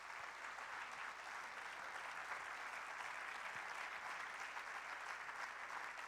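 A church congregation applauds loudly and steadily, a dense continuous wash of clapping filling the whole stretch without a break.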